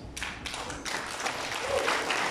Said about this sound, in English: I clap my hands.